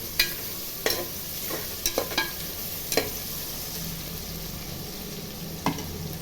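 Salted onions sauté in a pan for mutton biryani, giving a continuous close sizzle with a few sharp clicks of a spoon against the pan, spaced irregularly and free of talk.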